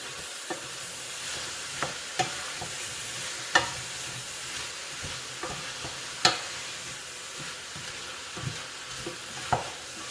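Garlic and curry soup ingredients are stirred in a pot, with a steady close scraping and sizzling broken by sharp spoon clinks against the metal at irregular intervals.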